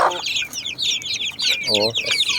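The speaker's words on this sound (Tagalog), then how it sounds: "yung inahin natin na native" A native hen clucks in short bursts amid a busy farmyard, with her chicks peeping continuously in the background.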